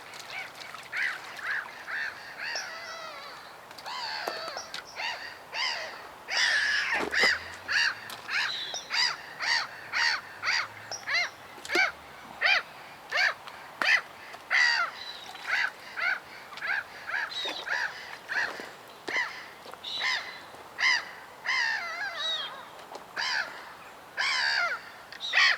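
Seagulls at a fishing lake call repeatedly in harsh, overlapping cries, a steady flock chorus at moderate distance with no talk.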